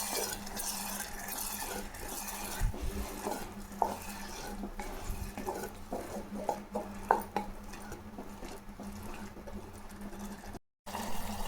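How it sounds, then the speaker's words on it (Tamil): Ground tomato paste sautés in a pan with a low, soft sizzle. A spoon scrapes and taps against the pan now and then. It is quiet and close, with no talk. "நம்ம அரைச்சி எடுத்து வச்சுக்கிற தக்காளிங்க, நல்லா பச்சை வாசனை போகிறதையும் நல்லா வதக்கலாம்"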